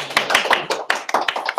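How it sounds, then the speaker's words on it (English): Audience applause at a startup business planning and fundraising session, a short burst of close, crisp hand claps from a small group, unevenly spaced and fading quickly. "Can we have a round of applause?"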